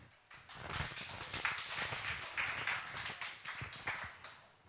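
Applause from a live audience at a startup pitch event, a steady patter of many hands clapping for about four seconds, fairly faint and without speech.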